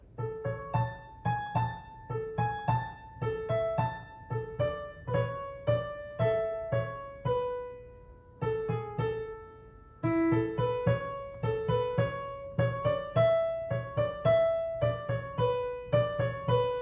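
A simple piano melody plays alone, with bright repeated notes moving at a steady rhythm and a brief pause midway before continuing.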